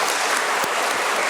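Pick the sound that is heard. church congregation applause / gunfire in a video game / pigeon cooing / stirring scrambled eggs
church congregation applause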